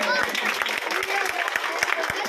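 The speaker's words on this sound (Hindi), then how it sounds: "बहुत जोरदार ताली रायगढ़ पर" An audience at a public event for a Chhattisgarhi film claps in a brief burst, crisp individual claps over crowd chatter and a voice talking.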